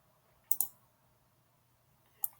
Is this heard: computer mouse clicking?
yes